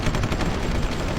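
Artillery and gunfire in the strategy video game Supreme Ruler Ultimate, a dense continuous barrage of booms and rapid shots, loud and steady throughout with no talk.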